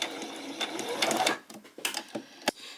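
A sewing machine stitches a skirt hem in bursts, running and stopping for a back stitch, with sharp clicks between short runs of stitching, fairly close and with no talking.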